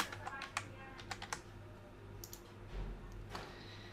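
A flight number is typed on a computer keyboard as a quiet, close series of light key clicks in short irregular bursts, with gaps between them, over a low steady hum.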